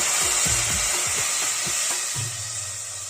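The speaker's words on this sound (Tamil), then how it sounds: "இப்போ நமக்கு மிளகு பொரியுது பாருங்கள்" Steady, hissing sizzle of black pepper frying in a hot pan for dry ginger kashayam, with scraping stir strokes and soft clinks throughout.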